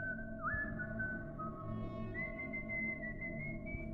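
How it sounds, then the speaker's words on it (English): Someone whistles a slow, wavering, off-key tune outside around midnight, faint and distant over a low steady rumble, the pitch sliding and holding unevenly. "I was almost asleep when I heard whistling outside."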